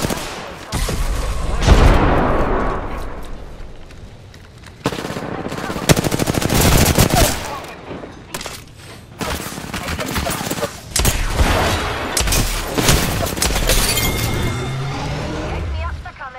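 Heavy automatic gunfire fills a fight on King's Canyon in the video game Apex Legends, sustained loud bursts with short pauses and voices speaking over the shooting.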